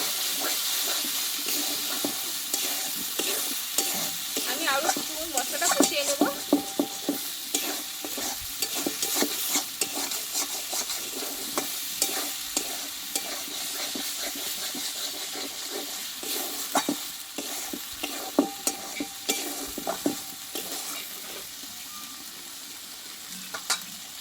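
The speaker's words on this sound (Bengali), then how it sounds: "দেখো মশলাটা কিন্তু প্রায় কষা হয়ে এসছে কিন্তু তেলটা ছেড়ে দিয়েছে" Spice paste cooks down in oil for a soybean curry, with a steady, dense sizzle and frequent scraping stirs of a spoon against the pan throughout, heard up close with no talking.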